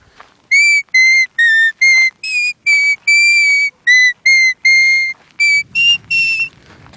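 A simple tune played on a sheepherding whistle: about fourteen clear, shrill whistled notes in a steady rhythm, each short and sharply separated, close and loud with no talking.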